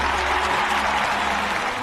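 Steady applause from an audience, a dense continuous patter of many hands clapping at an even level throughout, with no voices standing out above it.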